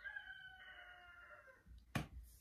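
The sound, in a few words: chickens crowing in the background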